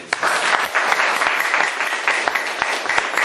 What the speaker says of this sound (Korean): 아주 좋은 강의를 해주신 송생들에게 다시 한번 감사의 큰 박수